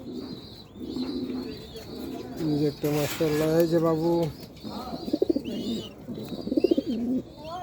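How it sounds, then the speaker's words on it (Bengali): Pigeons kept in a home loft, a hen among them, give soft murmuring coos in short bursts, close by, with someone talking over parts of it. "যেটা আমার ফেভারিট একটা কবুতর, একটা বাচ্চা সেরকম।"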